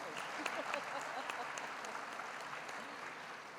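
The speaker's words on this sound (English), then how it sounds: "That deserves a round of applause." A lecture-hall audience applauds a public library announcement, a steady wash of many hands clapping at moderate distance, even and sustained throughout without a break.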